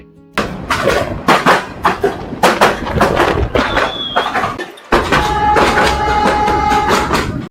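A local train in northern Bangladesh rolls past close by near Rangpur, with a quick, rhythmic clatter of wheels, then settles into a loud, steady rumble with a faint whine.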